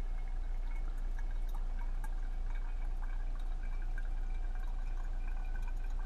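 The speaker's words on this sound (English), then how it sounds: "So I'm filling this one up now." Homemade kombucha poured into a bottle, a continuous splashing liquid stream that fills the bottle steadily for several seconds, close and fairly loud, with no talk.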